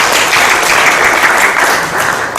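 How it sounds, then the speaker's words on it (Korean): An audience at a policy debate on sunlight dividends welcomes the final panelist with loud, dense applause, a steady wash of many clapping hands that barely fades. "박수로 맞이해 주시기 바랍니다"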